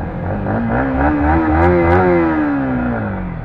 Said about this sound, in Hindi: बाइक नहीं ऑन हो रही